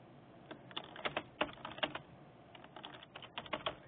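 Clicky computer keyboard typing an event title, a quick run of close keystrokes in two bursts separated by a short pause, quiet with no talk.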